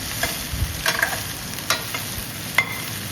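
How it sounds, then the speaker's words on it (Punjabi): Sizzling oil with a few scraping ladle strokes as okra is stirred in a wok, close by with no voices. "ਇਹਨਾਂ ਨੂੰ ਇਹਦੇ ਜਲਦੀ ਜਲਦੀ ਕੜਛੀ ਮਾਰ ਕੇ ਮਿਕਸ ਕਰ ਦਿੰਨੇ ਆ"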